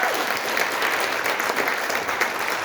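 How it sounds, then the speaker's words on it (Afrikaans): Steady, dense applause from a concert audience at a Christmas kids' show, sustained and even throughout with no voices standing out. "Kom ons gee vir julle nog 'n klap."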